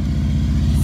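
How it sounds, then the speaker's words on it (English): A motorcycle passes close by on a residential street, a steady loud low engine drone sustained throughout the short moment. "Sorry that loud noise. A motorcycle's coming by."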